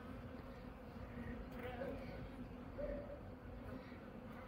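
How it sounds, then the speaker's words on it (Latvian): Honey bees buzz steadily over an open hive frame during a spring hive inspection, a dense continuous hum close to the microphone with a few individual bees droning past. "Bites jau čakli strādā."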